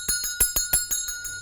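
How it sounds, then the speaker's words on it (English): A small bell rings in a quick, steady run of about seven bright strikes, each with a metallic shimmer that lingers briefly, heard alone and close. "Every time that Pavlov rang the bell"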